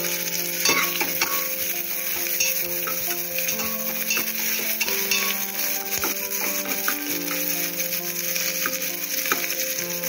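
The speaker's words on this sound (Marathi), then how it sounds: "कांदा फोडणीत चांगला लाल झालाय, थोडा ब्राऊन झालाय." Onions sizzle steadily in hot oil for a Malvani-style mutton curry tempering, browning as they fry, a constant crackling hiss with occasional scrapes of stirring and no voices.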